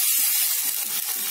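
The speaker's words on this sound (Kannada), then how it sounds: "ಹಸಿ ವಾಸನೆ ಹೋಗೋವರೆಗೂ ಫ್ರೈ ಮಾಡ್ಕೊಳ್ಳೋಣ." Mint paste frying in a pan for a Mughlai biryani, a steady close hiss and sizzle with soft crackling throughout, no voices.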